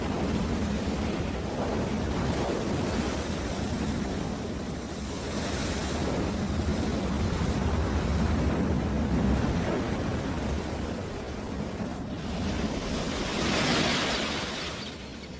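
Strong gale wind roars with crashing ocean surf on the Crozet Islands, a lonely, inhospitable sub-Antarctic shore; a loud, continuous broadband rush swells and eases throughout, with heavier gusts building near the end.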